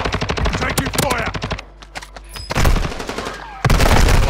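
Rapid bursts of automatic gunfire from the Call of Duty: Modern Warfare II video game, loud and close, broken by short pauses and followed by more sustained firing.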